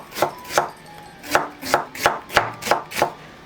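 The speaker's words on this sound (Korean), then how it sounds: "당근도 채 썰어 준비해 주시고요." A knife cutting carrots into thin julienne strips on a board, eight crisp even chops in a steady rhythm, close and clear with no talking.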